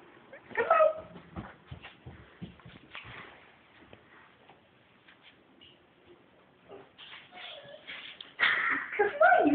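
A bullmastiff whimpers and yips in short bursts, with quiet stretches between and a louder flurry of whines near the end, while a person talks softly.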